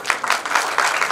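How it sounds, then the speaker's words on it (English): A preschool annual function audience gives a brief round of applause, a dense wash of many hands clapping fairly close and steady for about a second, with no talk over it. "A round of applause please"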